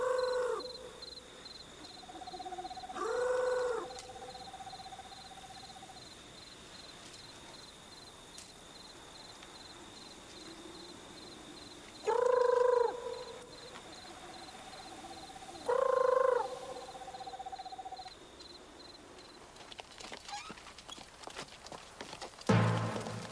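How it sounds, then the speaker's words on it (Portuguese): An owl hoots at night, four separate hoots spaced several seconds apart, fairly distant, over a steady high insect trill and quiet nocturnal background, with some rustling near the end. "Isso aí é apenas uma coruja,"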